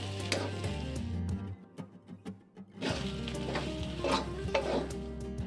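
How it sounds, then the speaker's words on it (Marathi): Ground green peas sautéing with spices in a pan with a spoonful of ghee, scraping stirs and sizzling in bursts with a brief lull in the middle, close and clear, no talking. "तर आपण बारीक केलेले वाटाणे आहेत ना, याच्यामध्ये छानपैकी परतून घेऊया"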